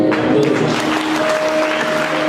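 A congregation at a church service claps, giving continuous dense applause that fills the room, with some faint voices and tones mixed underneath.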